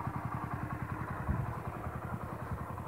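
A small motorcycle engine putters at a steady, rapid thumping rhythm in an outdoor pasture, moderately close, with a brief thud partway through.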